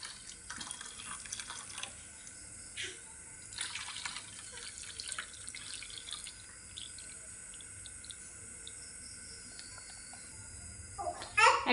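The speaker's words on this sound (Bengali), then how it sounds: "এবার দুধের মিশ্রণটি ঢেলে দিচ্ছি।" Milk mixture poured into two bowls over mango jelly for mango milk pudding gives a soft, steady liquid trickle with faint clinks, ending in a brief louder splash.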